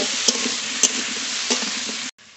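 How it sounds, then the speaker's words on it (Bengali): Green plantain frying in mustard oil in a wok with salt and turmeric, a continuous close sizzle broken by a few light stirring clicks before cutting off abruptly. "কাঁচকলাটা একটু ভেজে নেব"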